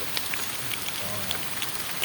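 Steady rain falls during the wet season over peatland farmland, an even hiss with scattered soft drop taps close by, no voices.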